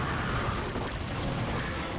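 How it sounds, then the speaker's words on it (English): Guardian unit attack noises from StarCraft, a dense continuous rumbling and crackling barrage of booms, loud and unbroken throughout. "Now I'm hearing Guardian noises."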